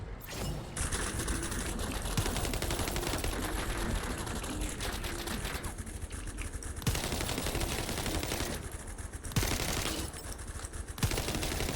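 Sustained rapid-fire gunfire in The First Descendant, dense automatic volleys pouring almost nonstop with brief gaps, loud and close throughout, without speech.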